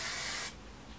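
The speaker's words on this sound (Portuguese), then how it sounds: "Faço bastante spray pro cabelo ficar cheio também." A burst of hairspray from an aerosol can is sprayed onto hair for a loose bridal hairstyle, a steady close hiss lasting about half a second before cutting off to quiet room tone.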